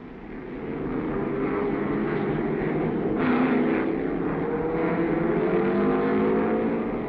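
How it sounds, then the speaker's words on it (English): 1960s race cars starting and speeding past at the 1965 12 Hours of Sebring, led by a lightweight Corvette: a loud, steady roar of several engines that swells as cars pass nearby, with no talk. "Delmo Johnson's lightweight Corvette is first away and streaks past the slower starters."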